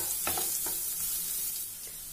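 Onions frying in a pan with masala spices being added, a steady soft sizzle with a few stirring scrapes, close up and alone without voices.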